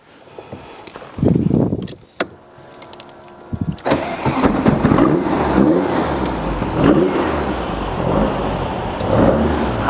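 A 1972 VW Beetle 1303 LS is heard from behind the car: the engine starts after a brief key rattle, then idles and revs loudly and steadily close by, with no talking.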